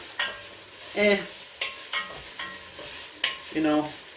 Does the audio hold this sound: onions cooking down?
yes